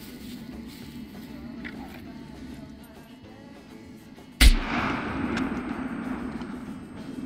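One sudden, loud gunshot bursts out in a shooter video game after several quiet seconds of low background rumble, leaving a lingering noisy tail afterward.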